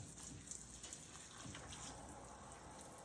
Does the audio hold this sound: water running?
yes